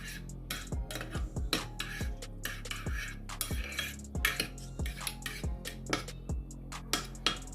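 A spoon stirs salt into a pizza topping, knocking against the bowl in a quick, regular run of bright clinks and taps, close and fairly soft.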